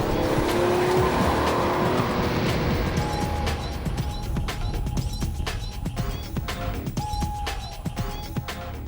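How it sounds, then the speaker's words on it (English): A sports car roars as it accelerates hard from rest to 60, then tires squeal and skid under braking back to a stop before the engine settles to a rumbling idle. "the car's gone from rest to 60 and back again."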